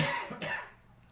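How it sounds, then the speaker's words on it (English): A single short, harsh cough, fairly close, followed by a brief quiet tail. "this cough is from the vaccines"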